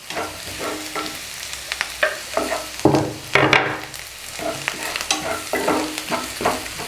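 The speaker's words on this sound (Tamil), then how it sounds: "இதை போட்டு நல்லா 1 நிமிஷம் இதை வதக்கிக்கலாம்." Green chili and curry leaves sauté in oil in a pan, sizzling steadily close up under repeated scraping and stirring strokes of a spoon.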